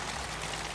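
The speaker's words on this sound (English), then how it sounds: "Just started pouring rain." Heavy rain pours down steadily outdoors during work on a Citroen Berlingo, a dense, continuous hiss of drops with no talking.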